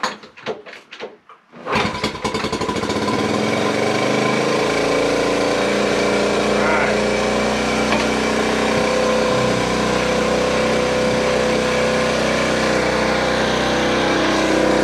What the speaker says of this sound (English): So about the second kick I got it to run. Sounds a little loud right now.